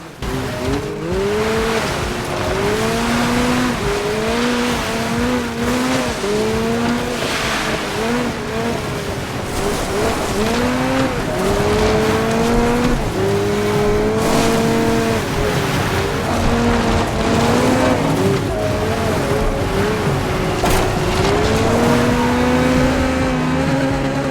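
Race car engines drone and rev continuously throughout, with rising and falling pitch sweeps and occasional tire squeal, loud and steady with no talk, from DIRT 5 racing gameplay.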